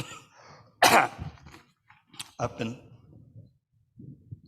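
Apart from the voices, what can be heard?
cough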